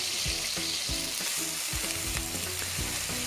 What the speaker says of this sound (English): Here's an example of frying 8 ounces of chicken that have been thinly sliced.